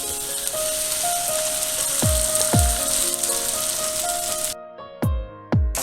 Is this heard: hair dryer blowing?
no